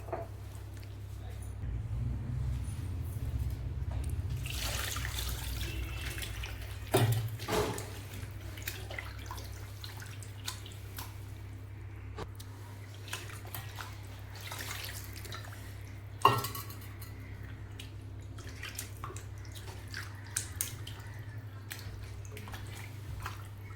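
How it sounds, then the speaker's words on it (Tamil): Tap water runs while raw chicken is washed with turmeric and salt. A soft, steady splashing rush fills the first several seconds, then fades into quieter trickles and occasional clinks of a vessel, all fairly faint. "கறியை மஞ்சத்தூள் உப்பு போட்டு கழுவி எடுத்துடலாம்"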